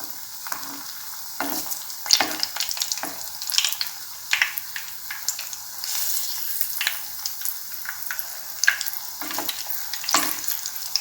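Mango balls frying in oil, a constant bright sizzle close by with bursts of crackling and spitting as oil is spooned over them, no voices.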